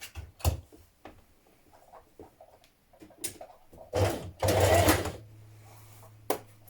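A sewing machine back tacking on trouser fabric, short bursts of stitching followed by a longer whirring run, with quiet handling clicks between.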